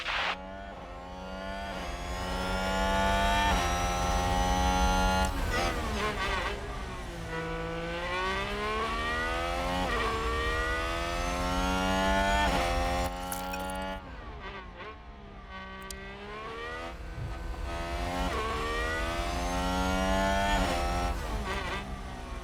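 Formula 1 cars in F1 Manager 2022 battle through an overtake, their high-pitched engines rising and falling as they accelerate and shift gears, a steady loud roar without talk.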